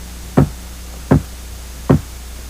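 Three dull, evenly spaced knocks thud against a wall, about three-quarters of a second apart, with quiet room noise between them.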